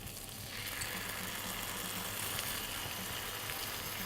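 Red Thai curry paste sizzling in hot oil in a pan, a steady broadband hiss and crackle that stays loud and even throughout, with no talking.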